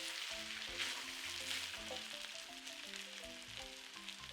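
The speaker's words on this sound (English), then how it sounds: "These potatoes have been cooking for about 10 minutes. I've been constantly opening the pan and just giving them a stir." Potatoes frying in a pan give a faint, steady sizzle with occasional light stirring, heard under tonal background music.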